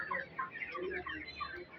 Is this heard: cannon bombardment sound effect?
no